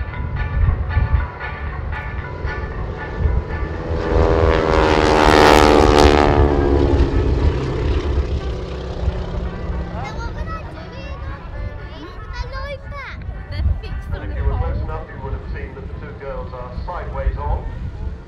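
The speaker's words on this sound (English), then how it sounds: "starting off with the stack flypast. One aircraft stacked above the other." Breitling Wingwalkers propeller biplanes make a stack flypast at the RAF Cosford Airshow, one aircraft above the other, their engine drone swelling to a loud peak and fading away under crowd noise and talk.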